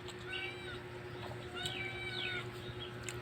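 Several cats meow nearby in a home kitchen, a cluster of rising and falling cries in two bursts over a steady low hum, with faint background voices.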